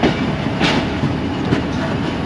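Passenger train on a branch line hauled by an HGMU-30 diesel locomotive, heard as a steady loud rumble with wheel clatter from on board, constant and without talk.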